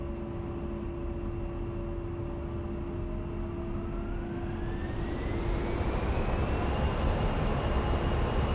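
Twin jet engines of an A-10C running at military power in the DCS flight simulator, a loud, continuous roar with a steady whine whose pitch slowly climbs, no voices.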